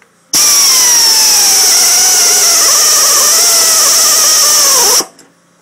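A power drill bores out spot welds on a 1969 Mustang body, a loud, high whine that starts abruptly, bogs slightly in pitch as the bit bites into the metal, then cuts off after about five seconds.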